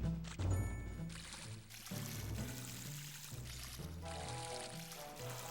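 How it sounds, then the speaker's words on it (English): Watery splashing and pouring from a character stepping through puddles in the video game Majora's Mask Randomizer, heard as a continuous liquid wash with brief splat-like bursts and a background of game music and tones. "It sounds like a puddle. It sounds like a splat. It sounds like they're splashing in puddles."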